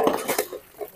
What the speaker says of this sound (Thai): ล้างหม้อล้างช้อนครบ ก็คือล้างแล้วก็เช็ด